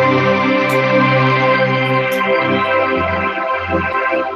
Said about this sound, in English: huge, reverby sound